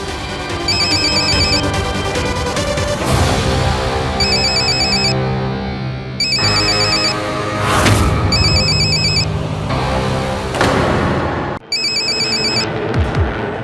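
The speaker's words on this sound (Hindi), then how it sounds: "मयंक, तेरा फोन बज रहा है क्या?" A mobile phone rings loudly and repeatedly, a patterned electronic ringtone in regular bursts over a dramatic musical score, with no talking.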